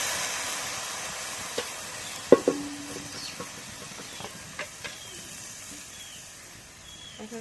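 Leafy greens drop into a hot pan of oil and fried crushed garlic, making a quiet, soft sizzle broken by scattered clinks and scrapes from a stirring utensil.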